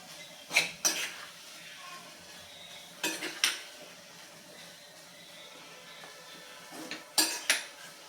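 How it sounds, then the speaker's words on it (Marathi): Potato pieces cooking in ghee for sweet potato sheera, with a spoon scraping and clinking against the pan in three short clusters over a faint, low sizzle. "हा छान सोनेरी रंगावरती आपल्याला परतून परतून घ्यायचं आहे"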